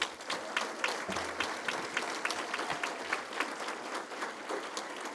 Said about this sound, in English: one more round of applause for the Distinguished Alumni Awardee, Nicole Linder